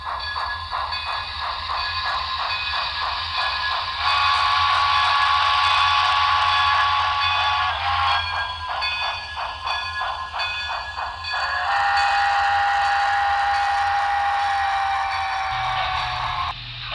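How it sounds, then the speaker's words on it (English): HO scale die-cast 2-8-0 Consolidation model steam locomotive with smoke and Paragon 3 sound, giving a steady chuffing run with two long whistle blasts, close and loud throughout. "This is a 280 Consolidation, die cast with smoke, and Paragon 3 sound."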